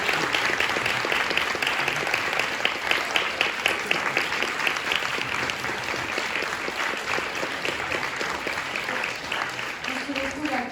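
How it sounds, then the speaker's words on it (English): Conference audience gives sustained, even applause for a guest speaker, clapping dense and continuous for the full stretch with faint voices mixed in. "Je pense qu'on peut l'applaudir encore une fois"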